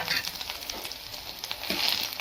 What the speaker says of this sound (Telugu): పేస్ట్ పచ్చివాసన పోయే వరకు వేయించుకోవాలి